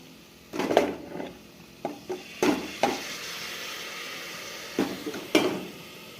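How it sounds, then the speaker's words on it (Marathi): Washed rice goes into a pressure cooker with sautéed onion, tomato and spiced vegetables for a paneer pulao; scattered metallic clanks and scrapes of a spoon stirring against the pot stand out over quiet background, with no voices. "त्याच्यानंतर आपण टाकणार आहे आपला धुतलेला तांदूळ"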